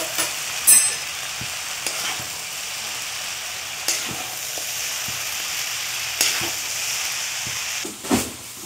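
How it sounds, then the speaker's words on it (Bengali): Mutton chowmein fries in a hot pan, a loud, steady sizzle and hiss broken every couple of seconds by sharp scraping stirs against the metal. "ভালো করে নেড়ে চেড়ে এখন ভেজে নেব।"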